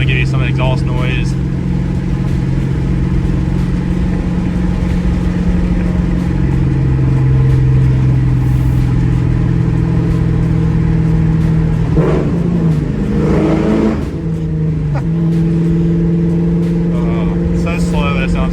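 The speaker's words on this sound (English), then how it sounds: "there's a bridge coming up, so I'm going to give you some exhaust noise" Ford Mustang exhaust rumbling steadily from inside the car as it drives toward a bridge, a low droning note that swells briefly midway, with a voice talking over it throughout.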